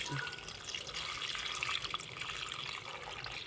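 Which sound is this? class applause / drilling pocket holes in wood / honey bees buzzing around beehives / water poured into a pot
water poured into a pot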